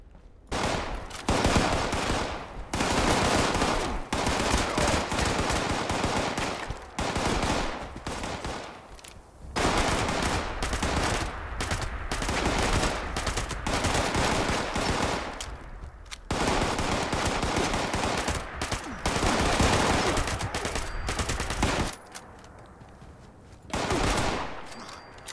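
Gatling gun fire in the video game Fallout 76: long sustained bursts of rapid, loud mechanical gunfire with brief pauses between strings, dense and continuous, no talking.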